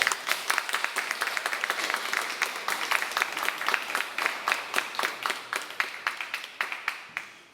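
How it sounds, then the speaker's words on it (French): An audience applauds children before a stage show, scattered and fairly sparse claps forming an uneven, gradually thinning rhythm that fades toward the end. "j'aimerais demander un tonnerre d'applaudissements pour les enfants qui sont là"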